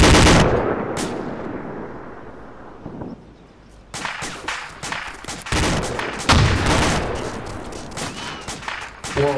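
Gunfire and bullet sounds in the military shooter ArmA 2 with the ACE mod: dense bursts of shots and snapping rounds, a loud opening volley and then a steady barrage from about four seconds on, with no speech.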